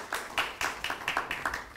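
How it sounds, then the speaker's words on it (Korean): A few people clapping in an uneven, sparse rhythm at an academic award presentation, moderately close, with no talking. "우리 힘차게 격려의 박수 부탁드립니다"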